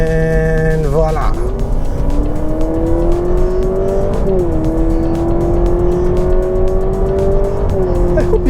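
Honda Civic Hybrid e:HEV accelerating hard, its engine note climbing steadily and loudly after a brief dip, heard close from inside the car with no voice over it.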